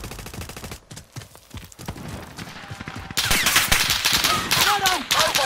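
Video game gunfire in a combat scene, rapid bursts of automatic shots crackling irregularly at first, then a denser louder fusillade with sharp ricochet-like chirps in the second half.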